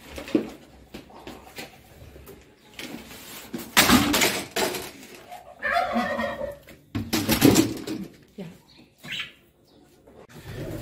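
Domestic pigeons kept with poultry give short throaty coos and bursts, with scuffling noises between calls and no talking.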